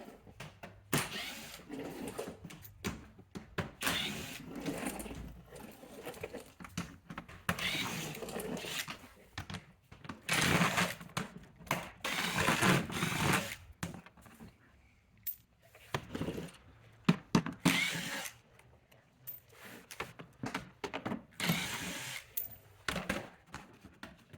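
Small 7mm screws removed from the front bumper underskirt of a 2011–2023 Chrysler 300, with intermittent clicks, ratcheting and plastic knocks in short bursts, close by, with no speech.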